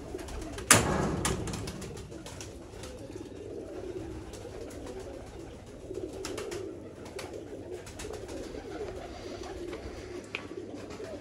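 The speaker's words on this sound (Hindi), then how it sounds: "शौक करें कबूतर का, माशाल्लाह से एक लाजवाब कबूतर है" A pigeon coos softly and steadily at close range in a quiet room, a low murmuring rumble after one sharp knock near the start.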